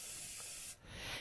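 Cooking spray hisses from a can onto a baking can for Instant Pot Boston brown bread, a close, steady spray that breaks off briefly and then resumes with a second burst.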